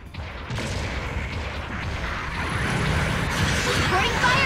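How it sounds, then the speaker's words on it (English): Long-range artillery support fire in a GM Spartan video game, a steady dense rumble of distant booms and crackling impacts running throughout, growing slightly louder toward the end. "Long-range support fire incoming!"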